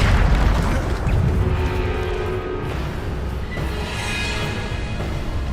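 A Bombarda spell blast from the Hogwarts Legacy video game booms loud and close at the start, followed by a rumbling, crackling tail that lingers for several seconds.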